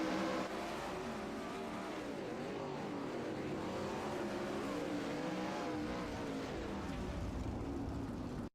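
Race cars roar around the track on the final lap of a heat race at the Kokomo Classic, a steady, wavering engine drone with revs rising and falling as the pack circles, heard from a distance and with no talking.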